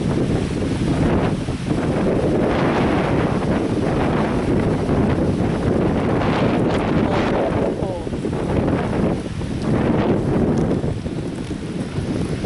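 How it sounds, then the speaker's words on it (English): Strong gusting wind during a severe thunderstorm in Flat Rock, Michigan, loud, continuous roaring buffets battering the microphone, swelling and easing in waves with no other clear sounds. "Okay, it's really windy now."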